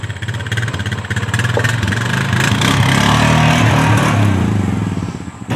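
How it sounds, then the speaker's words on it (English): A four-wheeler engine runs steadily at idle, a loud, close mechanical rumble that holds for several seconds with a slight rise in the middle and no talk over it. "let's get this four-wheeler out and get it loaded up."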